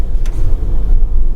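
A 2021 Porsche Panamera V6 driven hard on a race track, a loud, close, low engine rumble that holds steady through a short burst, with no speech.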